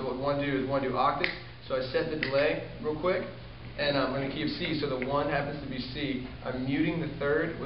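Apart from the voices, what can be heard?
No distinct noise like a dog, phone or traffic.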